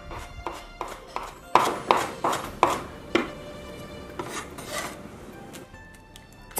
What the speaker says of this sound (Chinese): 转干水分后，给它剁成碎末